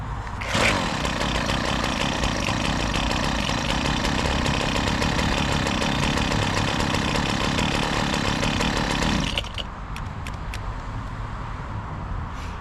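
A Husqvarna 122HD60 hedge cutter's small two-stroke engine roars steadily at high revs for several seconds, then abruptly cuts out from a fault, leaving a quieter idle with a few clicks.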